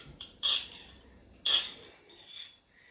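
A spoon clinks against a prep bowl while mixing ketchup and Dijon mustard, giving two distinct bright metallic taps a second apart plus softer scraping, close and otherwise quiet.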